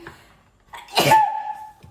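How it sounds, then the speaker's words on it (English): A single adult sneeze in a home kitchen while cooking cottage pie with a small child, close and loud, preceded by a quick inhale and followed by brief quiet. "Mum's going to sneeze."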